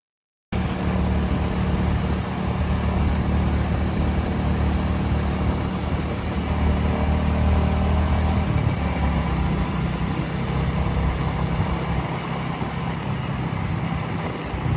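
A vehicle drives along a rain-soaked road during the monsoon around Lonavala, giving a steady, close rush of engine and wet tyre noise for the whole stretch, with no talking.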